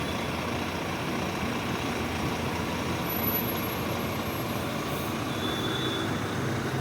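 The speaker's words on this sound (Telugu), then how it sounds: "ఏమో అది మన బస్ సౌండ్ అనుకుంటాలేండి గైస్." Steady low engine rumble from a NueGo bus, heard from inside the moving cabin as a continuous drone with road noise and no talk.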